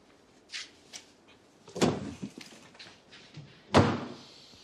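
A door thuds shut twice indoors, each closing a loud, hollow bang with quieter knocks and shuffling between them.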